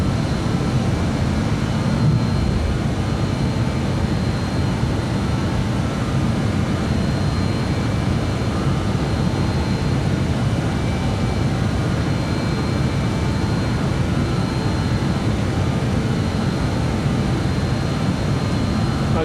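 Airliner engines at takeoff climb in Microsoft Flight Simulator 2020, a steady broad low roar that holds loud and unchanging throughout with no distinct gear clunk.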